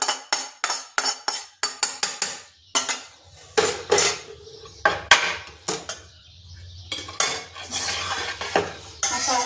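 Rapid metallic scraping and clinking of a spoon against a wok while stirring roasted wheat flour, repeated in quick rhythmic strokes, close and fairly loud.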